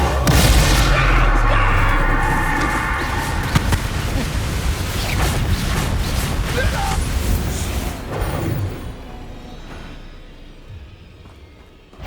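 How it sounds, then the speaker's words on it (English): The Confringo fire spell in Hogwarts Legacy gives a loud explosive blast among other combat effects, then fades into a quieter ringing tail, with talk heard over it. "Levioso! Confringo!"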